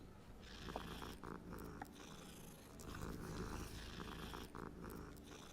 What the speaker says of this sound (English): Very nice black kitty.